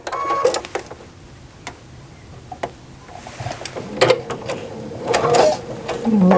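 A home sewing machine stitching over a quilt seam while piecing a carpenter's star block, heard as a close, quiet mechanical whir with faint clicks that rises in short bursts as the needle runs.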